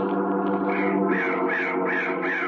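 A carrion crow caws in an old-time radio horror drama, a steady harsh tone followed by four rhythmic, nasal caws, close and clear with no talking.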